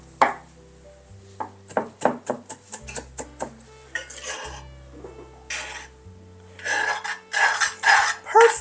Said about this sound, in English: chopping some cilantro for the fonio